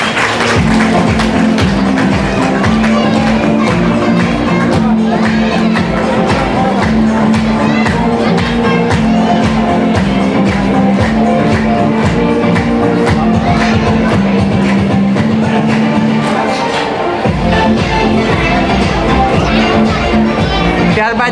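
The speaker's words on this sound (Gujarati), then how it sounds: "તાળીઓથી વધાવી લઈએ." Sustained, dense applause from an audience at a school prize distribution ceremony for Class 9 incentive awards, filling the whole stretch loudly with a steady tonal hum running underneath and a brief dip near the end.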